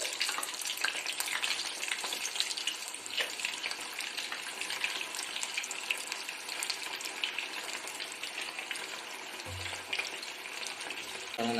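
Cauliflower pieces fry in hot oil with a continuous, dense crackling sizzle, moderately loud and even throughout, with a brief low clunk near the end.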